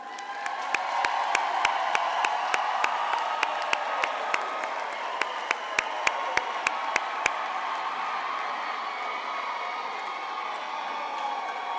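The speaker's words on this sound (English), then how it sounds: "Parents, please give your graduates a round of applause." Graduation ceremony audience applauding in a large hall, a steady wash of clapping from many hands with a few whoops, sharp transient claps standing out early, then fading slightly but continuing throughout.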